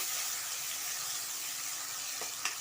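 Coarsely ground onion and tomato paste sautés in a pan for raw banana kulambu, giving a steady, close sizzling hiss with a couple of faint ticks near the end and no talk.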